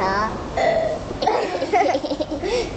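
A person burps a few times in close succession, throaty croaking belches up close, mixed with voiced, speech-like sounds.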